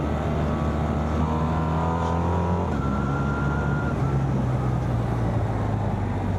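A BMW R1300R motorcycle climbing a steep, twisty hill in third gear, its engine droning loud and continuous with rising tones as it pulls, while wind noise runs underneath.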